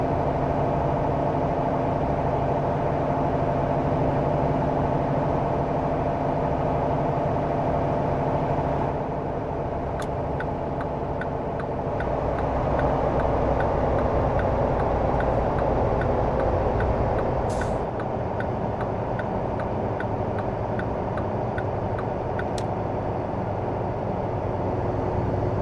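A truck engine drones steadily in American Truck Simulator, a continuous mid-pitched rumble with slight shifts in load and a few faint clicks, no talking.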